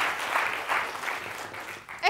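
A studio audience at a Georgian comedy game show applauds in a short burst of clapping, fairly close and lively, with a few swells before a sharper final flurry.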